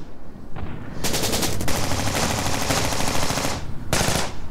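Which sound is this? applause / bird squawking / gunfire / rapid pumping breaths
gunfire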